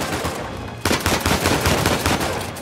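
Sustained automatic turret machine gun fire in the video game Uncharted 4, a dense rapid burst that starts abruptly and rattles on loudly without pause.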